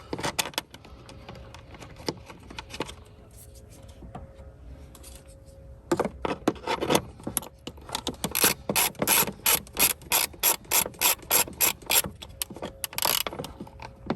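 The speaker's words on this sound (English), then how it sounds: "Now we're just gonna go ahead and lock it down with a 10 mil." A ratchet tightening a 10 mm bolt on a Honda Accord starter: quiet clicks and handling at first, then a long run of rapid, close, loud ratcheting bursts in quick repeated strokes.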